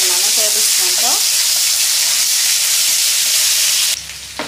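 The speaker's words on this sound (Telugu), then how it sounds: "పచ్చివాసన పోయేదాకా ఫ్రై చేసేసుకున్నాము." Ginger garlic paste fries in hot oil for a fish pickle, giving a loud, continuous, close sizzle and hiss. A voice is heard briefly at the start, and the sound cuts off abruptly near the end.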